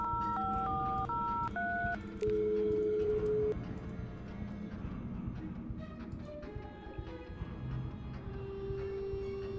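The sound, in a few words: telephone dialing a payphone in a video game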